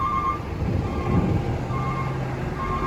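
Trucks roll aboard a ferry at Merak port, a steady low engine rumble holding for the whole stretch with faint tonal whines and a soft beeping layered above, no voices.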